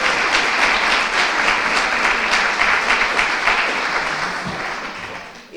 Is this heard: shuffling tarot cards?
no